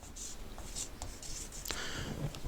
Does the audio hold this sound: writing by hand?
yes